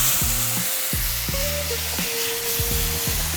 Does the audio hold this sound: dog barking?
no